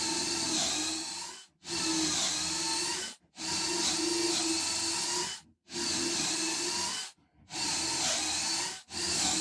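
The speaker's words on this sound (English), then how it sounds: "So we'll go ahead and start drilling." A power drill bores pocket holes into wooden boards for a shoe bench, giving five long, loud, steady whining runs, each a second or two long, separated by brief silent pauses.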